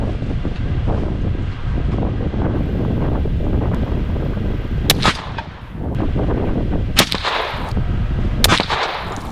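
Shots from a 22 ARC rifle firing Hornady V-Match ammunition at an outdoor range, four sharp reports spaced a couple of seconds apart over steady wind rumble.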